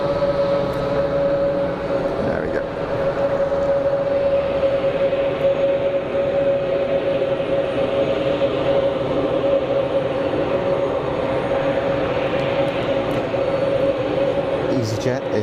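An EasyJet airliner taking off at Geneva Airport roars as a steady, loud broadband rumble with a sustained tonal whine, continuous for the whole stretch while voices talk over it.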